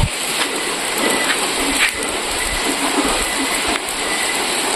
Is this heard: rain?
yes